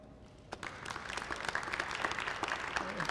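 Audience applause at a theatre festival kickoff builds from a quiet room into steady, fairly loud clapping from a crowd after about half a second, continuing to the end.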